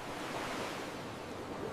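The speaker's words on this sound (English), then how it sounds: "I can hear the ocean." Ocean waves wash in a steady, soft broadband roar with no distinct breaks, fairly faint and continuous, with no voices over it.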